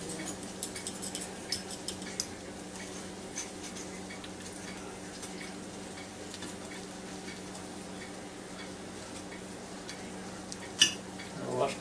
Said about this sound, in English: now let me get a fork and knife and cut into each one of them